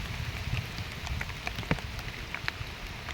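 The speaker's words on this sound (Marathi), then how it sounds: "थोडंफार कमी झाला पाऊस" Steady rain falls on a Konkan village paddy field during traditional rice transplanting, a dense close patter of drops with scattered louder splashes and no voices.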